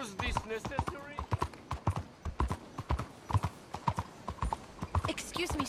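Horse hooves clip-clop in Red Dead Redemption 2, a steady rapid trot close by, with someone talking over them and a faint neigh early on.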